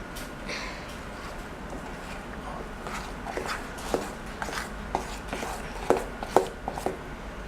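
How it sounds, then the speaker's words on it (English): Eggs, powder and milk being mixed by hand in a bowl, with irregular taps and scrapes of a utensil that grow louder and more frequent toward the end over a low background hum. "we're going to just start mixing it all up"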